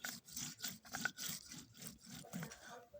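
Raw cumin seeds are ground on a flat grinding stone, a rhythmic rubbing and scraping of stone on stone repeating about every third of a second, close and steady, with no voices.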